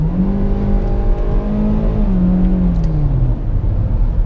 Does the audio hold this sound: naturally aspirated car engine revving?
yes